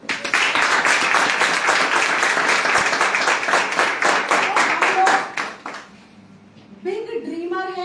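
Loud, dense applause from an audience at a women entrepreneurs' session in Rajasthan. The clapping runs steadily for about five seconds, then fades out, and a voice starts speaking near the end.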